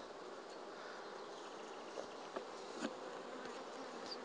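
Honeybees hum steadily around an open hive as frames are handled during queen-rearing preparation, a dense continuous buzz with a few brief louder passes of individual bees.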